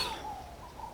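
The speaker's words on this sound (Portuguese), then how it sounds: "E qual é a trilha sonora que a gente escuta aqui? Rolinhas, galos," A single soft, low coo from a ruddy ground dove near the outskirts of Fortaleza, Brazil, heard outdoors over a faint background hum.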